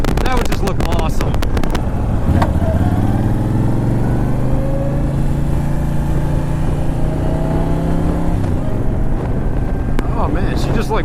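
A Honda Fury motorcycle being ridden, its engine droning loud and close beneath heavy wind buffeting, the pitch climbing steadily through acceleration before dropping and rising again.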